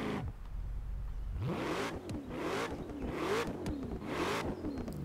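Shelby Mustang GT500 in Forza Horizon 4 revving repeatedly, its engine note climbing and falling in several loud, close bursts with no one talking.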